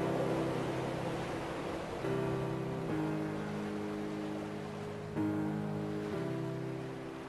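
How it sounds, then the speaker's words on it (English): Ocean waves in the video game Dear Esther, a continuous wash of surf blended with sustained low ambient tones that shift a few times, heard without any talk. "The waves."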